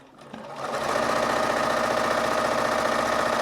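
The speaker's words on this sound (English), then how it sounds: "we're going to sew straight up this side a 1/4 inch, straight up that side a 1/4 inch." A sewing machine stitches a quarter-inch seam, starting up over a fraction of a second and then running at a steady, fast, close, whirring hum with a rapid mechanical chatter, with no talking.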